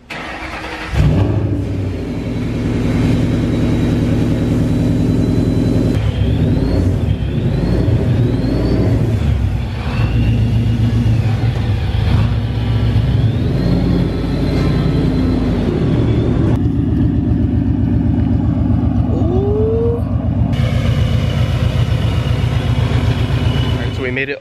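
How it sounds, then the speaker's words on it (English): A modified 2007 Ford Mustang GT V8 cranks and fires up, then settles into a loud, steady, rumbling idle that holds close and strong throughout. "So let's go ahead and start the car up."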